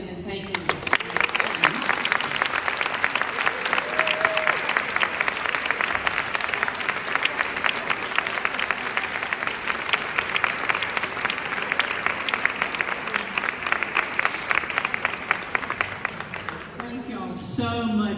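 A symposium audience claps in sustained applause for nearly twenty seconds, dense and even before fading out, with voices talking briefly near the end.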